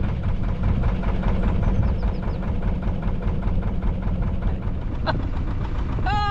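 A canal narrowboat motor chugs steadily with a rhythmic low knock, close and continuous, with a brief whistle-like sound near the end.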